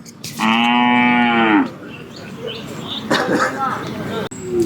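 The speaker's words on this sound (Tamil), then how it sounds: "பாப்பாத்தி அப்படின்னு கேட்டு மாடு திரும்பி பார்க்குது." A cow at a native cattle market in Palayakottai gives one long, loud moo up close, followed by quieter rustling and distant bird chirps.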